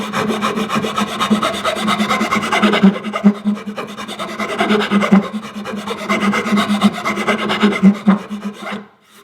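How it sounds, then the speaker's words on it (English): A four-in-hand rasp smooths a piece of wood with steady back-and-forth strokes at a 45-degree angle, loud, close and continuous with a rhythmic rasping pulse and no talk, fading out at the end. "Now I'm going to turn it round now to use this smoother side and start smoothing this piece out here."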